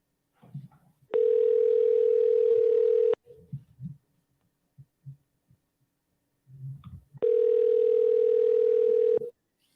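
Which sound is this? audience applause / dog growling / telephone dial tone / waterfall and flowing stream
telephone dial tone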